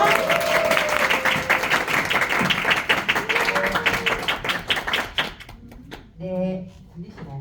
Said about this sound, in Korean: 큰 박수로 강사님 모셔보도록 하겠습니다